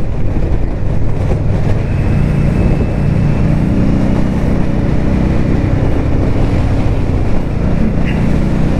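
A 2021 Indian Scout Bobber Twenty motorcycle runs steadily on the road, its engine and wind roar loud and continuous, with a rough shift from first to second gear somewhere in the steady drone.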